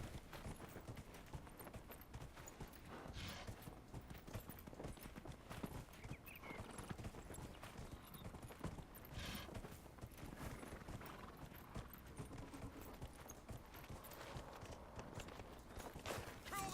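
Horse hooves clip-clop steadily in Dragon Age Inquisition as a mount walks along, a continuous quiet rhythmic beat with faint game ambience.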